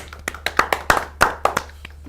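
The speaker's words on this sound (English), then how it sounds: "Can we clap, give a hand to her?" A few people clap together for a ward leader during a live stream, about a dozen sharp claps in an uneven rhythm over two seconds, close and fairly loud with a steady low hum beneath.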